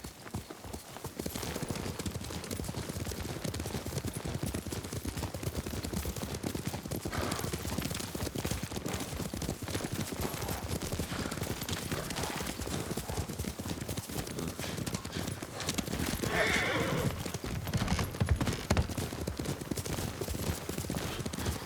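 Horse hooves clip-clopping at a steady riding pace in Ghost of Tsushima, a continuous dense rhythm of hoof falls over ambient wind and rustle, loud and close throughout with no voices.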